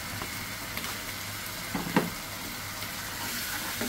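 Chili spice paste frying for a chicken curry, a moderate steady sizzle with a couple of soft scraping stirs near the middle, close and continuous without speech.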